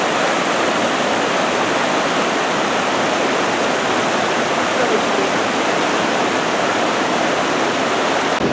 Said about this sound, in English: is on our way to the Tokatee Falls